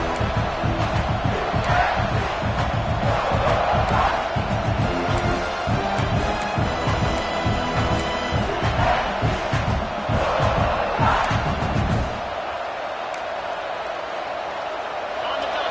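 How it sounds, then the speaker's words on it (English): A large stadium crowd at a football playoff game roars and cheers continuously, dense and loud, with a commentator's voice speaking over it before the noise drops lower. "Listen to the crowd energy here in the early going."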